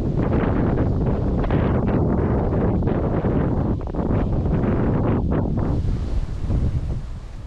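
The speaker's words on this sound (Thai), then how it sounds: "ลมแรงพุ่งพี่น้องเลย" Strong wind blows across a pond in Dan Khun Thot, Thailand, buffeting the microphone with a loud, continuous roar that surges and eases in gusts. It softens slightly toward the end.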